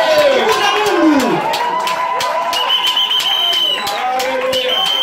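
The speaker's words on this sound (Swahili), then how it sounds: "l'assemblée continue à se réjouir" A church congregation cheers and rejoices loudly, with high whistles, shouts and wavering voices layered into a continuous lively din close by, sustained throughout.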